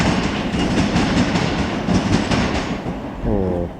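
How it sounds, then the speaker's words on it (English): Great Northern class 387 electric multiple units departing Cambridge, wheels clattering rhythmically over rail joints in a steady clickety-clack, close and loud, with a brief rising tone near the end. "brilliant track joint sounds as well."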